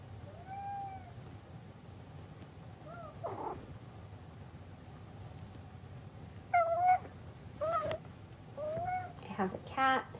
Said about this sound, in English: I have a cat who's really interested in what I'm doing.